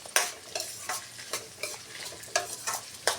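Dried red chillies and onion frying in a pan, a steady background sizzle broken by repeated sharp scrapes and stirs of a spatula, close and clear with no talk.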